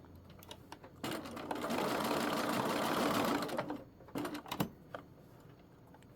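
A sewing machine top stitching over an existing line along a garment shoulder seam runs in a steady close whir for a few seconds, framed by short clicks and stops before and after.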